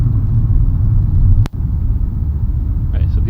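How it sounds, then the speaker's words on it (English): A low, continuous rumble of road noise heard from inside a car, steady throughout, with a brief sharp click and a momentary drop in level about halfway through. "This is supposed to be inside a car."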